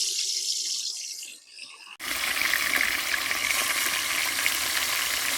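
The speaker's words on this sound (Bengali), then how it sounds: "এবার বড়া ভাজা তেলে মাছগুলা ভেজে নিচ্ছে।" Salted, turmeric-rubbed fish frying in a pan of oil already used for lentil and banana-stem fritters: a quieter hiss gives way to a loud, steady, close sizzle that runs unbroken to the end.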